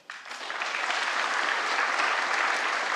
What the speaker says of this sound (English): let's give a big round of applause for Emily.